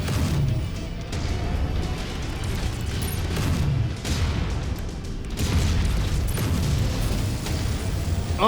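MechWarrior 5 mech weapons fire at an enemy mech in a heavy barrage of booming shots and crunching impacts that repeat steadily, loud and dense, with brief dips between volleys.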